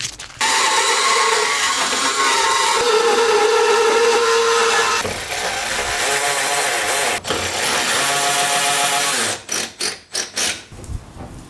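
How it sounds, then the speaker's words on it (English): A power drill whines steadily for several seconds, drilling out a mirror mounting hole on a Miata, its pitch shifting partway through, then ends in a few short bursts as the trigger is pulsed. "I gotta drill this hole out for the mirrors."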